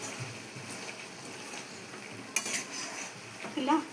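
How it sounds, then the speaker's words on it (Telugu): Chicken fry being stirred in a pan with a spoon, scraping from bottom to top over a soft sizzle, with one sharp clink and a louder scrape near the end, no voices. "ఇలా కింది నుండి పైకి ఇలా కలుపుకోవాలి."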